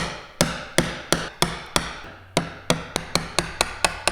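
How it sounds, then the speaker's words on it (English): A mallet strikes a chisel cutting a joint baseline in wood for a practice frame, with a steady series of about fifteen sharp, close knocks that grow quicker toward the end. "So now chisel in the baseline"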